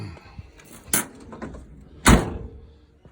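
The door of a 1964 German 21-window bus is worked, giving two sharp metallic clunks about a second apart amid faint handling noise, the second louder and fuller.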